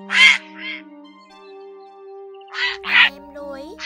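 Grey herons calling to their flock, harsh croaking caws in two bursts near the start and two more near the end, fairly close and loud, over a steady low hum.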